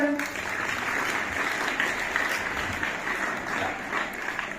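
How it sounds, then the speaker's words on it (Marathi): Audience at a Savitribai Phule birth anniversary speech event breaking into sustained, dense applause that stays fairly steady for the whole stretch, with crowd noise mixed in. "एकदा जोरदार टाळ्या होऊन जाऊ द्या"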